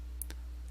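A single quick mouse click in a software interface, faint and isolated against a steady background hum.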